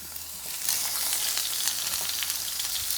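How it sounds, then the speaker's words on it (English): Roma tomato hits an oiled pan and bursts into a steady, loud sizzle that jumps up after a brief quieter start and holds through, no talking. "Here we're going to add our Roma tomato,"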